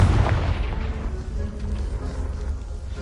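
A Confringo blasting spell going off in Hogwarts Legacy, one loud booming explosion that breaks out at once and then rumbles and fades away, with no talk over it.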